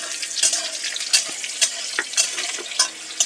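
Boiled chickpeas frying with garlic in a pan, a close crackling sizzle broken by regular scraping stir strokes about every half second. No voices are heard.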